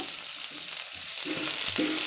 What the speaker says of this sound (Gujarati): જીરું સરસ રીતે સંતળાઈ ગયું છે, એટલે હવે આપણે તેની અંદર 1 નંગ ઝીણી સમારેલી ડુંગળી એડ કરીશું.